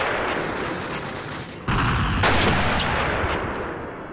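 Gunfire in a Call of Duty battle, a dense continuous roar of shots and rumble throughout with a sharp louder burst partway through, no clear single sniper shots standing out.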